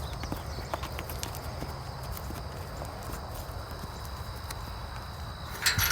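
A horse's hooves clip-clop steadily at walking pace on a hard surface, close and fairly loud with some background hiss and no talk.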